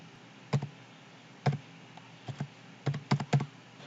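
Keys on a computer keyboard are pressed in short bursts while a verification code is entered, several crisp close clicks separated by brief pauses in a quiet room.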